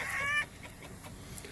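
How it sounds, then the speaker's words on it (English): Chickens clucking nearby in a beekeeping yard, a short burst of bright clucks at the start followed by quieter ambient farmyard sound. "while we're right here with the chickens"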